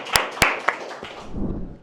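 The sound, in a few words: audience clapping for a speaker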